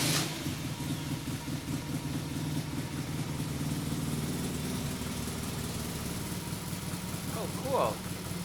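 A motorcycle idles with a dB killer silencer fitted in the exhaust, a steady low mid-pitched engine drone running throughout, close and moderately loud, with a brief higher squeak near the end.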